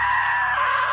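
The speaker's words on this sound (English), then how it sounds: "Now that was a great scream." A person screaming, one sustained high-pitched shriek held steadily at full loudness for the whole moment, close and harsh, with no other voices.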